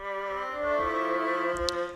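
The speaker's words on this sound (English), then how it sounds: "if you combine these two, then you get a very vinyl-y type sound" Sustained Stroh violin sample tones with layered harmonics, overlaid by a faint crackly, hissy vinyl-style surface noise effect, with a few soft pops.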